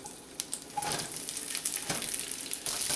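Onion frying in hot oil in a pan while making chole bhature, a steady crackling sizzle with scattered pops and stirring scrapes, moderately close.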